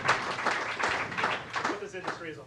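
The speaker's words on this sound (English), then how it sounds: "Round of applause for that statement." A keynote audience breaks into scattered clapping, a short burst of applause that swells and fades over a couple of seconds, with a voice speaking over it near the end.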